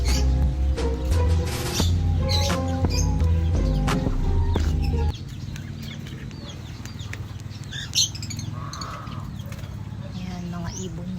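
Chirping and twittering of many small birds, continuous and busy, with rhythmic clicking and knocking sounds mixed in during the first half.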